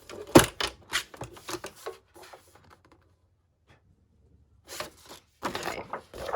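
Scissors or a paper trimmer cutting paper to size for a junk journal envelope, a burst of crisp close snips and rustles, a quiet pause, then more cutting and handling sounds.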